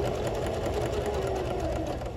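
A sewing machine runs steadily through a seam repair on a frayed tear, a continuous close whirring stitch with no pauses and no voices.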